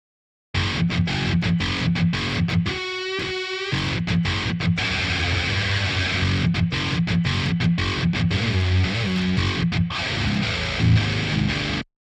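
A distorted metal guitar plays tight, chugging palm-muted riffs in a home-recorded track, with short gaps and faint string release squeaks between phrases, loud and steady throughout.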